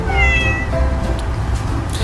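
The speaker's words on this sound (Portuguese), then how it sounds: "É o gatinho! Qual é o som que o gatinho faz?" A cartoon cat meows in a children's animal-sounds lesson: a loud, close, drawn-out meow with a softer follow-on cry, heard alone.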